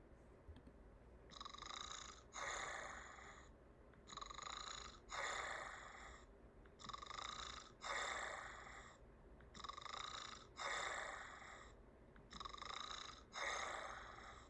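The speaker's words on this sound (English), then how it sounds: "Lucario snore is loud" A cartoon Pokémon, Lucario, snores loudly alone in a steady rhythm of about six drawn-out breaths, each a rasping inhale followed by a brief pause.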